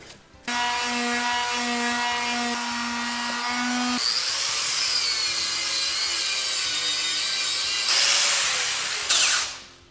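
A power wire wheel grinds rust off a Toro Reelmaster 3100D cutting unit, giving a loud, steady, whining buzz whose pitch shifts as the pressure changes before it briefly surges and cuts off.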